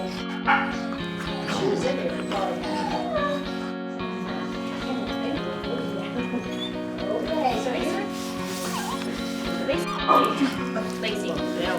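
Dogs barking and yipping during a dog training session, repeated close barks and whimpers under steady talk from people.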